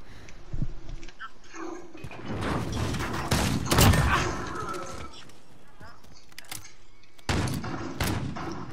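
Gunfire in the shooter game Call of Duty: Modern Warfare, with scattered shots and short bursts that rise to a loud cluster midway and recur near the end, while players talk over it.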